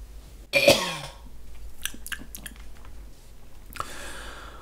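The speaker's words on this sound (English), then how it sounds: "That's a cough." A single sharp cough near the start, followed by a few faint clicks and soft rustling in a quiet room.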